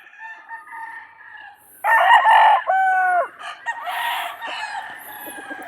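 A Dome broodstag rooster clucks softly, then lets out a loud, close cock-a-doodle-doo crow, followed by further clucks and fainter crowing from other fowl nearby.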